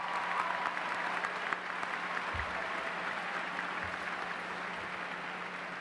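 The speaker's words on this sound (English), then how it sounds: "Please clap." Faint, distant applause from a graduation audience in a large venue, a steady low wash of clapping throughout with no voices on top.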